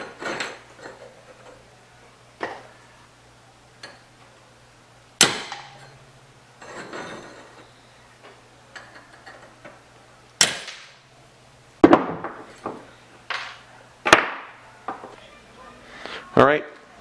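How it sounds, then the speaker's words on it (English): Sharp metallic hammer blows on a punch knock out the rivets of a Subaru AC compressor clutch, coming as scattered single strikes and a quick cluster near the end, with quieter handling noise between. "So you put the punch on the rivet and then you just punch it out like this"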